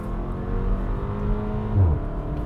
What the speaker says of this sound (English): what you can do in this is rev it all the way to redline in park